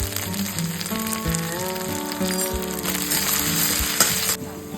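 Onion, ginger paste and crushed green chillies sizzle steadily in a hot pan, a close, continuous fry with occasional stirring scrapes and no talking.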